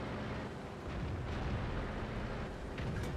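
Tank cannon fire and shell impacts in the World of Tanks video game, with an FV4202 tank in play: a steady rumbling battlefield roar with dull booming bursts and a few sharper crackling hits.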